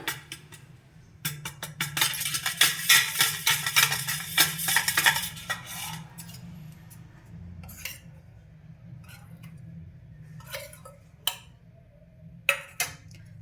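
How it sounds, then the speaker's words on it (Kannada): A spoon stirring red chilli powder into oil, quick clinking scrapes against a metal pan or bowl in a dense burst, then slower, sparser taps and clinks, close and alone. "ಎಣ್ಣೆಯಲ್ಲಿ ನೀಟಾಗಿ ಮಿಕ್ಸ್ ಮಾಡೋಣ ಇದನ್ನು."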